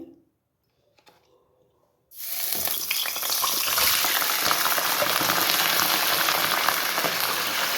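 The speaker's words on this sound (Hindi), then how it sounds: "ऑयल गरम हो चुका था मेरा, हाफ कप ऑयल। इसमें हमने चिकन डाला है, इसको फ्राई करेंगे" Chicken dropped into half a cup of hot oil bursts into a loud, continuous sizzle that starts abruptly after a brief quiet and holds steady to the end.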